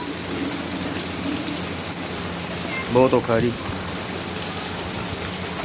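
Heavy rain pours steadily over Moga city as a dense, hissing wash; a person briefly speaks partway through.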